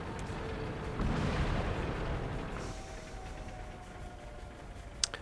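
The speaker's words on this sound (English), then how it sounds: "I think it's their artillery." Artillery fire in the World of Tanks video game: a broad, rumbling boom that swells and slowly fades over a few seconds, followed by a faint sharp pop near the end.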